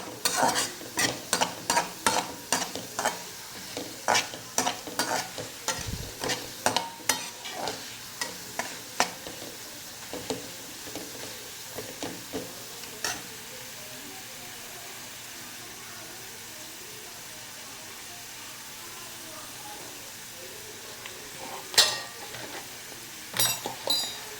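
Cumin seeds sizzle in hot oil, a soft steady frying hiss with frequent sharp scrapes and taps of a spoon stirring in the pan, close and moderately quiet, in irregular runs.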